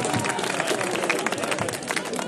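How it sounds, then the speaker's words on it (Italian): A crowd applauds young volunteers at a youth council's outdoor treasure hunt in Mussomeli, with dense, steady clapping filling the whole stretch and voices mixed in beneath. "Grazie ragazzi, un applauso!"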